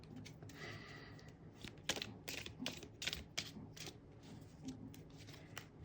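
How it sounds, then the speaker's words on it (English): Tarot cards are shuffled by hand in a quiet room, a faint series of soft riffling snaps and papery flutters in uneven bursts. "Let's shuffle again"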